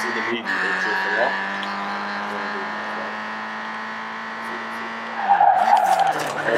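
Car drifting with long tire squeal and engine drone in a film, a sustained steady whine over several seconds before a rougher burst near the end, with talk faintly mixed in.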